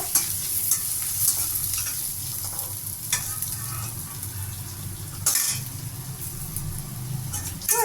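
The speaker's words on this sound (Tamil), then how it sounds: "அந்த மிளகா பூண்டு புளி எல்லாம் போட்டு கொஞ்சம் ஒரு நல்ல ஒரு வதக்கிக்கோங்க" Chili, garlic and tamarind sauté in a hot pan with a constant close sizzle and crackle, broken by repeated scraping stirs and a few louder clanks of a spoon against the metal.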